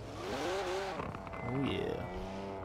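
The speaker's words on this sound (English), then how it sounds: "This car sounds so good." A car engine in the Forza racing video game revs up and down in rising and falling sweeps, loud and steady, with a brief dip that sounds like a gear shift.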